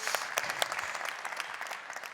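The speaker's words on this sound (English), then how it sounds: "give him a round of applause" An audience claps for a guest and his mother at a live workout session, a fairly faint, even patter of applause from a modest crowd.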